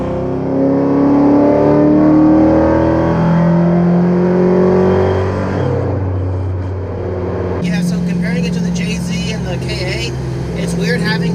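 A naturally aspirated V8 truck engine of roughly 450 horsepower with a full standalone setup pulls hard through the gears, a loud, close, rising roar with gear changes, heard from inside the cab.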